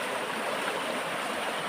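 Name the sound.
fast-flowing river with strong current over big rocks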